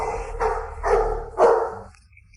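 A dog gives three close, loud barks in quick succession against a low background hum, then falls quiet, with no talking.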